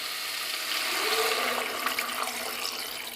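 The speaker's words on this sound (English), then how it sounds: "So 2 cups of water going in" Water pours steadily into a pot while pickled onions are being prepared, a continuous close splashing stream for several seconds, with no one talking.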